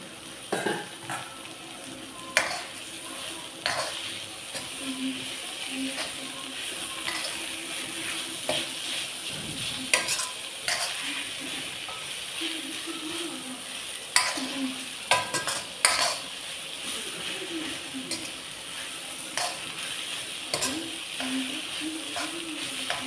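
Boiled bitter gourd is stirred and fried in an iron kadai, a soft steady sizzle punctuated by repeated scrapes and knocks of a spoon against the metal over a long stretch, with faint talk at moments.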